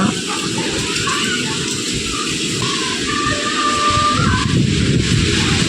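A heavy storm with strong wind and rain roars as a dense, continuous wash close by, with a steady rushing texture and no distinct pauses.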